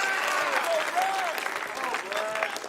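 A crowd at a graduation ceremony claps in dense, sustained applause, with a voice speaking over the clapping throughout.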